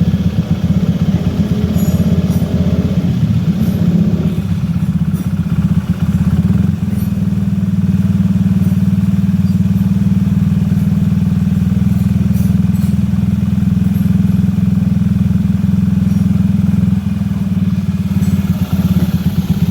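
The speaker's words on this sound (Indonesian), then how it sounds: "mesin dihidupkan sampai panas" A Honda Vario 110 scooter with a leaking radiator and a suspected water pump seal fault idles as it warms up, giving a loud, steady, close-up engine hum with a light mechanical clatter throughout.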